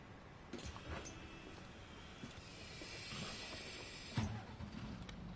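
A bus engine in the driving simulator game The Bus rumbles at a steady idle with constant hiss and a faint mechanical whine, with a few soft clicks and one brief louder knock near the end.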